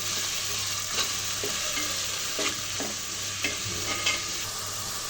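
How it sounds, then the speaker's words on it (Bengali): Prawns fry in a pan for a bottle gourd and pointed gourd curry with cinnamon and bay leaf, making a steady sizzle under a few sharp stirring scrapes and clanks, close and without speech. "এখন দিয়ে দেবো চিংড়ি মাছগুলো চিংড়ি মাছটা ভেজে নেব ভালো করে"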